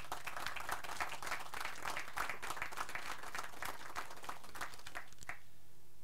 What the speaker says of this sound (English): Please give these gentlemen a round of applause.